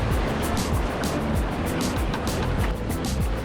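Ocean waves surging on a beach on the Australian coast at a shore-fishing spot, a continuous loud wash of churning water up close with no talk.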